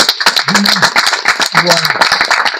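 Gathering honoring the Gazelles FC women's football team of Hêvié claps rapidly and close up, sharp dense hand claps mixed with people talking and calling out.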